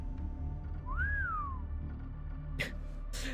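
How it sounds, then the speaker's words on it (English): In the video game Fate/Grand Order, a single clear whistle rises and then glides downward in one smooth tone, heard over a steady game music background with a couple of soft thuds afterward. "That whistle."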